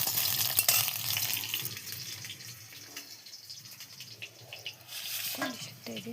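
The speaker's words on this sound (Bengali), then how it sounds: "আলুটা একটু ভেজে নিচ্ছি, মাংসের মধ্যে দিব, তার জন্য কষিয়ে নিচ্ছি আলুটাকে।" Potatoes frying and being stirred in a pan for a meat curry, a crackling sizzle with scraping stirs and a few clinks near the end, close by with no talk.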